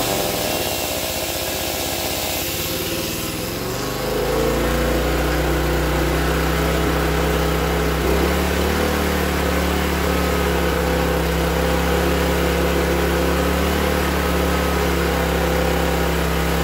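A rusty Honda generator that has been in summer storage runs with a faulty governor. Its engine note jumps after about four seconds, then holds a loud, steady, buzzing hum.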